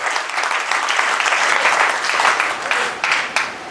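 Loud, sustained applause from an audience at a gathering, dense clapping running steadily for several seconds with slight swells and no speech over it.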